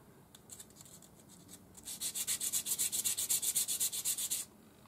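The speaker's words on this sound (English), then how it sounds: "you can go on your sanding stick, or you can just put a piece of sandpaper on your bench" A ring is rubbed on sandpaper laid on a bench, first in a few light strokes, then a fast, even run of about twenty rasping back-and-forth scrapes, close up.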